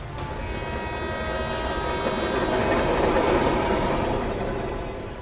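Train at Howrah railway station in Kolkata gives a continuous rumbling roar with wheel clatter and a faint horn-like tone, steady and fairly close, with no voices.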